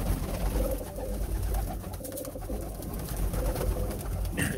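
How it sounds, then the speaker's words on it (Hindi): Fancy pigeons in a pigeon house coo in low, repeated throaty calls over a noisy background, several birds close by. "ये जी काफ़ी खूबसूरत पिजन हैं, बड़ा बेहतरीन"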